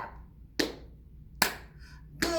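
Three sharp hand claps, evenly spaced about a second apart, sound close and clear at a children's storytime.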